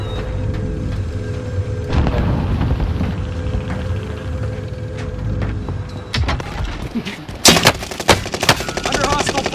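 Gunfire in a video game, with rapid machine-gun bursts and single shots, loud and close, that build to dense cracking volleys toward the end over a steady background rumble.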